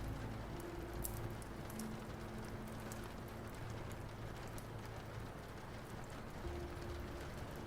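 Rain against tall windows, a steady soft patter and hiss with scattered brighter drop ticks, continuous and even throughout at a low, calm level.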